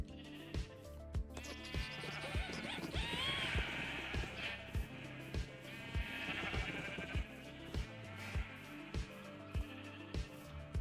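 Sheep on a Minecraft farm bleat repeatedly and fairly close, their calls overlapping above a steady rhythmic ticking and low hum, with no talk.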